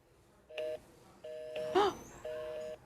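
Three short electronic phone dialing tones sound one after another, evenly spaced and fairly quiet, against a soft background.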